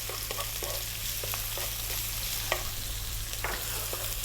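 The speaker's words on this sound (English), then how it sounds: "So we're on a high heat and I'm dropping in the onion, 1 cup of onion and 1 tablespoon of chopped garlic" A cup of onion and a tablespoon of chopped garlic fry hard over high heat in a noodle pan, making a continuous bright sizzle with scattered stirring scrapes, close and steady, no talking.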